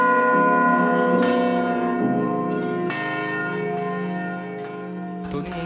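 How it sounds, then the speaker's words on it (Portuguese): A church bell rings loud and close, each sustained metallic strike with a long humming decay overlapping the next, at an uneven pace of about one stroke every second or so. "Eu saio de longe daqui só para vir tocar sino."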